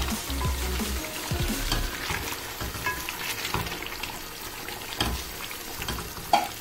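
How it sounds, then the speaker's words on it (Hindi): Bones fry in a pot for Delhi nihari, a busy close sizzle broken by scraping stirs and clinks of a spoon against the metal. "और हड्डियों को भी फिर हम थोड़ी देर भूनेंगे"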